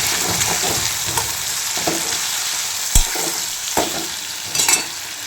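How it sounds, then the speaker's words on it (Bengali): A spice paste with tomato fries in onion, ginger and garlic oil, a loud, steady sizzle up close, punctuated by several sharp spatula knocks and scrapes against the pan. "আর দিয়ে দেবো একটু পিঁয়াজ আদা রসুনের তেল দিয়ে ভালো করে এটা মশলাটা কষিয়ে"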